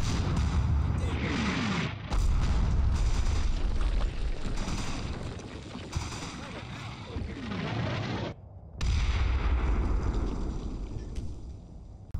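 Mortar shells explode repeatedly in Combat Mission Battle for Normandy, loud booming blasts and rolling rumbles one after another with a brief lull before another heavy round of impacts.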